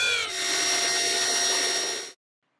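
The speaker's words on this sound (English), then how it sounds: "Initial mixing with a double head mixer." Double head power mixer whirring in a bucket of polyurethane mortar, a steady high motor whine with a harmonic hum running about two seconds before stopping abruptly.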